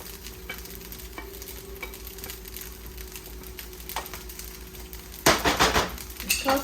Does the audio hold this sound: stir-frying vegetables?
yes